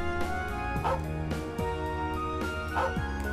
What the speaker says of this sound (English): Doggy!